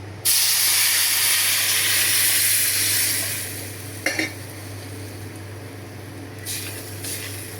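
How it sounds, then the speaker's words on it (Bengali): Water poured into a hot pan of browned halua ingredients bursts into a loud, hissing sizzle that holds for a few seconds, then fades to a quieter simmer with a couple of brief utensil clinks. "এই যে পানি দিয়ে দিলাম।"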